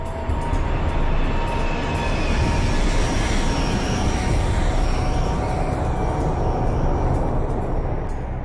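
Kazakhstan Airlines flight 1907 descends in a steady, loud, broadband roar of engines and rushing air that holds constant throughout, with no voices.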